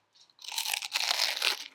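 Loud, close crunching as a fried cheese taco shell filled with lettuce, salsa and ground beef is bitten, a dense crackling burst lasting over a second, with no talking.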